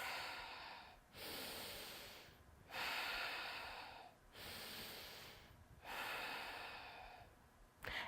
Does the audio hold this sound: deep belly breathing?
yes